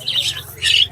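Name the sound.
albino Fischer's lovebird squawking at bird market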